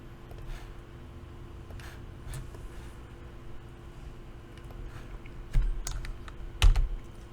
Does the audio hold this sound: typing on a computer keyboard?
yes